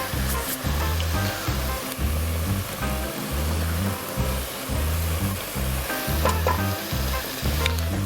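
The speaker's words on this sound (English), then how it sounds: "Get a little stir in there." Pressed garlic sizzling in a hot pan for crawfish étouffée while being stirred, a steady close frying hiss with rhythmic scraping strokes of the spoon throughout.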